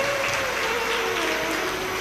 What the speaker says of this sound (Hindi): एक बार उनके लिए भी जोरदार ताली बजाकर साधुवाद